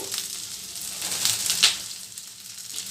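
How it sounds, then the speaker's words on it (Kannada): Poppy seeds and fennel sizzle steadily in hot oil in a pan, a close, continuous crackling hiss with a brief louder flare midway. "ಇದೆಲ್ಲ ಚೆನ್ನಾಗಿ ಫ್ರೈ ಆಗಬೇಕು"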